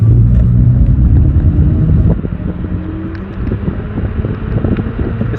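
Varla Eagle One V2.0 electric scooter cruising at level 1 on a single motor: a loud low rumble and wind buffeting that ease slightly partway through, with no talking.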